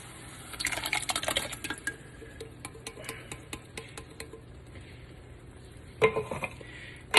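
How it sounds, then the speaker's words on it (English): Canned crushed tomatoes going into a pot of spaghetti sauce: wet plops and scraping metallic clinks of can and spoon against the pot, busiest early, then sparse taps and a final clatter. "now I'm going to go ahead and I'm going to add in my crushed tomatoes"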